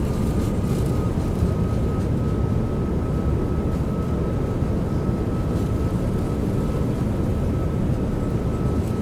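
A PMDG 737 roaring under reverse thrust while landing in MSFS 2020, a loud, steady broadband engine rumble with a faint high whine, continuous and close without speech.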